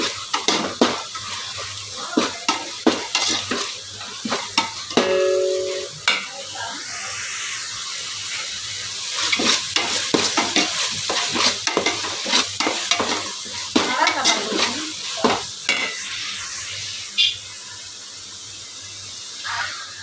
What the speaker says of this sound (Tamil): இதெல்லாம் சேர்த்து நல்லா நம்ம வதக்கிக்கிறோம் எண்ணெய் வந்து மிதந்து வர வரைக்கும் நம்ம வதங்க வதக்கணும்